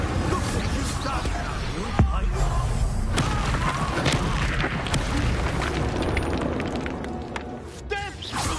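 Incendio fire spell cast in Hogwarts Legacy, a roaring burst of flame with booming impacts amid dense game noise, a voice talking over it.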